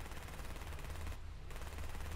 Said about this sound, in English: I fire them with machine guns.